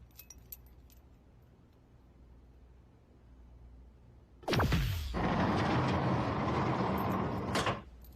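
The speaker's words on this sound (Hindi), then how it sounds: "दरवाजा खुल गया।" Keys jangle in a lock and a door is unlocked and opened in a Korean drama scene, a sudden loud metallic rattle after a quiet stretch, followed by a sustained scraping slide and a sharp stop.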